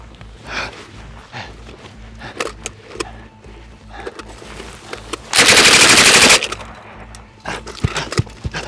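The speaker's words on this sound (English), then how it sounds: "This elite military unit has been favoring recently a machine gun known as the RPD" A suppressed Russian RPD belt-fed machine gun chambered in 7.62x39 fires one loud sustained burst of about a second, set among scattered shots, clatter and background noise.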